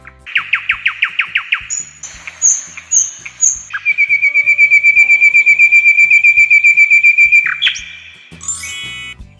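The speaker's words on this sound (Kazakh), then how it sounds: "nightingale." Nightingale song, loud and close: a rapid series of repeated notes, then a long sustained trilling whistle, ending with a quick high flourish.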